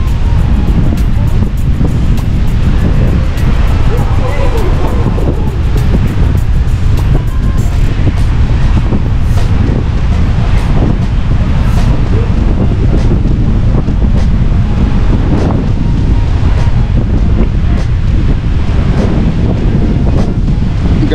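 Strong sea wind in San Juan buffets the microphone in a steady, loud roar, with surf washing underneath throughout.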